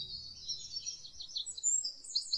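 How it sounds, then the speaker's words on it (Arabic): Bright, high-pitched trilling song of a Eurasian wren near caves in Tazekka National Park, Morocco, continuous rapid warbles, fairly faint and distant, with no voices. "طيور مقيمة تتردد كثيرا على الكهوف والأماكن المظلمة، نشيطة مغردة تؤدي زغرداتها بصوت بديع حاد."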